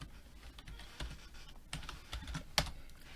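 Keys clatter on a computer keyboard as a code comment is typed, a quiet, uneven run of soft taps with a few sharper strokes near the end, heard close and alone.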